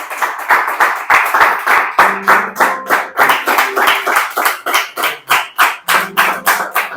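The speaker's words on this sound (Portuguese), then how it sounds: "Palmas para Jesus." A church congregation claps hands in praise of Jesus during a worship service, a steady rhythmic run of loud, fairly even claps lasting the whole stretch, with faint voices and brief tonal sounds underneath.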